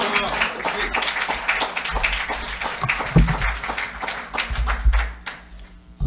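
Audience applause welcoming a student regional minister to the rostrum at a Sunday lecture, a sustained round of sharp, closely spaced claps that thins out toward the end.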